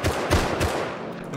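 Rapid bursts of gunfire in the survival game Rust, several loud close shots in quick succession during a rooftop raid fight, with no talking over them.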